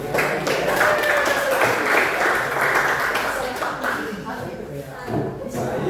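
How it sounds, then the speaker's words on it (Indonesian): An audience applauds at a teaching session, a dense spread of clapping that stays loud throughout and softens a little toward the end, with voices mixed in underneath. "Berikan aplaus untuk kita semua dulu."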